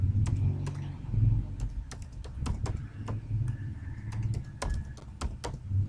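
A root password typed on a computer keyboard during a CentOS 8 installation comes through as a close run of sharp, irregular key clicks over a low background hum.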